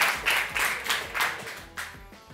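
Audience applause for author Mercedes Ron at a live talk comes as a short burst of rhythmic group clapping, fairly close and steady, swelling in several waves over about two seconds.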